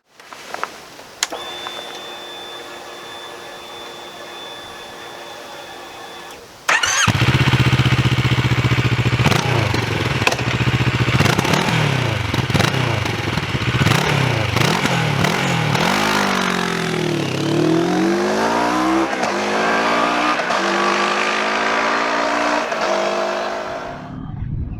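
A 2021 CF Moto MT650 motorcycle is started after a short whirring crank, settles into a loud, close idle, then pulls away on the road with rising and falling engine revs through the gears as it rides off, the wind noise growing.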